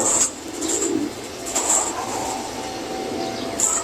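Racing pigeons coo close by as they arrive home at the loft, with a high intermittent chirping and a steady background hum underneath and no speech.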